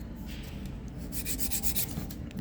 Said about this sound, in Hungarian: de viszont ugye kell reszelnem a sarokpontnál